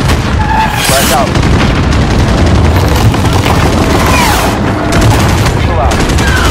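Dense combat from a Call of Duty Modern Warfare mission: loud, continuous gunfire and booms mixed with radio-style voices, a heavy wall of battle noise throughout.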